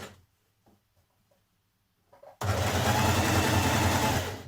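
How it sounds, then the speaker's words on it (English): A sewing machine stitching the outer edge of dress fabric starts abruptly after a few faint handling taps, then runs at a fast, steady, loud whirring chatter close by until the end. "you're going to stitch the outer edge"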